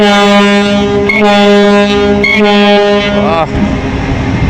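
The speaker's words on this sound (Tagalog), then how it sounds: "Busina ang malakas." A loud passenger ship horn sounds for the Montenegro Shipping Lines vessel Reina Genoveva, with a long steady blast, brief pitch dips and a falling tail near the end.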